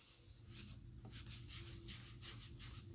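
A cloth rag rubs maintenance oil in circles over a wooden serving tray, a soft continuous swishing friction with rhythmic strokes, close and quiet.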